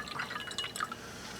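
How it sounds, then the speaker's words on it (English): Schlitz beer that has sat a while, with sediment in the bottle, pours into a glass with a close, soft liquid trickle and splash, bright and bubbly, alone for a little over a second. "Yeah, it's pouring"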